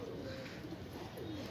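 A pair of golden border pigeons, high-flyer birds kept in Andheri West, coo softly in a low rolling murmur, faint and close against steady background noise.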